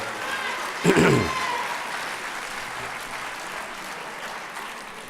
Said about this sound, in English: Let's give another round of applause for Ms.